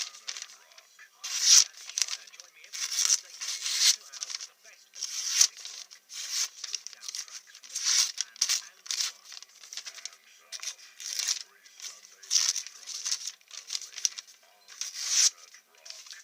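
A very sharp knife with a mirror-polished bevel and spine slices through thin catalogue paper in a rapid series of crisp, papery swishes, each cut a short rasping burst repeating about every second.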